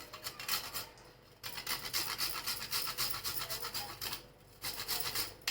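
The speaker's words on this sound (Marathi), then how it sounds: "एक चमचा वेलची पूड आणि थोडस जायफळ किसून घेते" Nutmeg rubbed on a small grater over a bowl of sweet filling, a quiet, steady rasping scrape in quick repeated strokes with one brief pause, close by.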